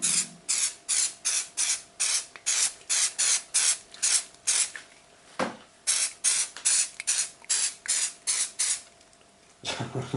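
Mr Sheen furniture polish sprayed onto a motorcycle visor in a long run of short, evenly spaced aerosol bursts with brief gaps, each a close, crisp hiss.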